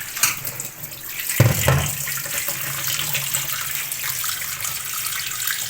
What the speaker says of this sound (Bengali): মাছটা খুব ভালো করে ধুয়ে নেব।